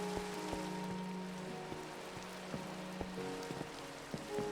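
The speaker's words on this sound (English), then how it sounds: "Now I just have to wait for the rain to go away." Rain in Minecraft falls as a steady, soft patter of drops across a surface, with scattered sharper ticks and tonal plinks poking through the continuous hiss, quiet and close.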